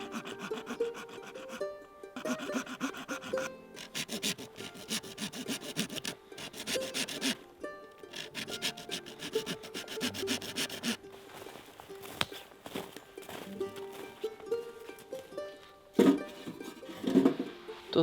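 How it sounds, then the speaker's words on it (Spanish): A hand saw cutting wood with crystallized resin, outdoors at a snowy camp, heard as repeated rasping back-and-forth strokes in bursts with short pauses, close and steady. "Tengo el truco de J, coger con la sierra madera con resina cristalizada."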